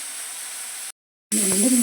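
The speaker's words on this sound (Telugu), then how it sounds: "ఇవి కూడా వేగుతున్నాయి కొంచెం ఈ కలర్లో రానివ్వండి" Food sizzles in a pan with a steady frying hiss. The sound cuts out briefly, then returns louder with some faint clattering.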